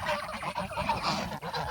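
King ducks calling, a flock of domestic geese-like birds honking and gabbling continuously at close range, no voices over them.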